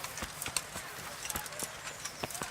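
Horse hooves clip-clopping in the medieval Bohemian game Kingdom Come: Deliverance, a steady run of sharp, evenly spaced hoof strikes over a low background bed, with faint talk in places.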